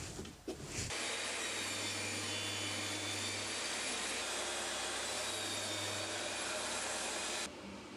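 A table saw with its miter gauge tilted cuts through wood, a loud, steady whining roar that starts abruptly after a short bump, holds for about six seconds, then cuts off.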